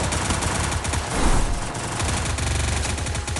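Rapid bursts of automatic gunfire and shots in the Free Fire battle royale game, a dense, loud, continuous volley of firing with overlapping shots and no voices.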